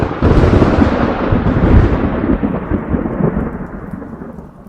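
A deep rolling rumble of thunder over a steady wash of heavy rain, loud at first and slowly fading away.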